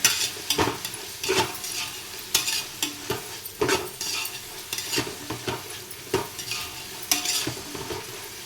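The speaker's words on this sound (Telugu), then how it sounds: "ఈ ఆనియన్ మంచిగా ఫ్రై అవ్వాలి" Sliced onions frying with turmeric and salt in a pan, stirred with repeated scraping strokes and steady sizzle, close and fairly loud, with no talking.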